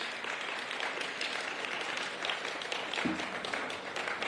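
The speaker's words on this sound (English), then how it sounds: "Can we please applaud them one more time?" A large crowd applauds continuously at an event at a primary school in Kenya, a dense, even roar of many hands clapping that holds steady throughout.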